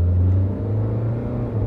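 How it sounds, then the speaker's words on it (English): A Toyota Corolla's engine pulls away from a standstill toward 30 mph after a hesitation fault was fixed, a steady low hum and rumble inside the car with a slight rise in pitch, close and fairly loud. "You can hear the engine going from zero to, we're going 30 now"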